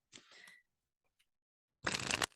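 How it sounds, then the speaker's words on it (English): Tarot cards are shuffled in two short riffling bursts, the second louder and closer, separated by a quiet gap with a couple of faint clicks. "as I shuffle and tune in to what the Aries need to know"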